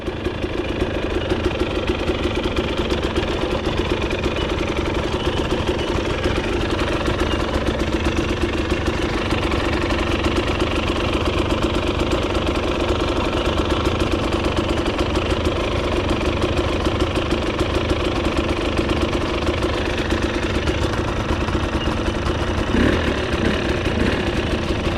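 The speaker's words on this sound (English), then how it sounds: "just warming up the Sherco." A Sherco motorcycle engine idles steadily while warming up, a continuous close mechanical thrum with a rapid pulsing beat that holds constant throughout, with no speech.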